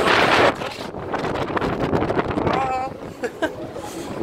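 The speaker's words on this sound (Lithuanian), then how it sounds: "Vėjas baisinėmis vėjas." Strong gusting wind buffets the microphone in loud, broadband roaring bursts that ease and surge, with a voice talking over the rumble during a road trip from Lithuania to the Netherlands.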